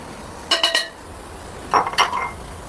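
Spices stirred into kurma in a pot, two short bursts of metal spoon clinks and scrapes against the vessel, close and clear over a quiet background.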